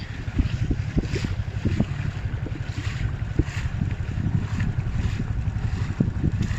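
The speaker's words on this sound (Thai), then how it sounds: "นี่เสียงลมปะ" Strong wind buffets the microphone aboard a boat on the Bang Pakong River while out shrimp fishing, a steady rough roar with gusty bursts throughout.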